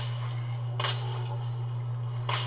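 Two sharp handgun shots ring out about a second and a half apart in Resident Evil 2 Remake gameplay, each a quick crack over a constant low droning game soundtrack.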